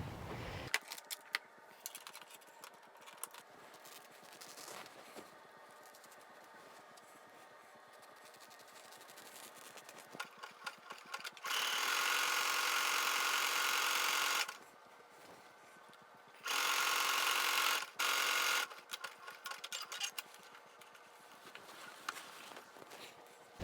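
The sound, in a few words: sewing machine stitching fabric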